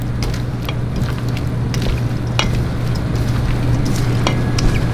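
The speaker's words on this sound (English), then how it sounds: "Just a quick stir." Salsa stirred in a hot cooking pan, a steady close sizzle with light scraping clicks of the utensil, no voices over it.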